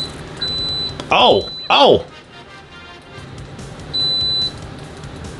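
A UNI-T UT123D multimeter gives thin, steady continuity beeps, one near the start and one late, each lasting about half a second. A man exclaims and makes short vocal noises between them.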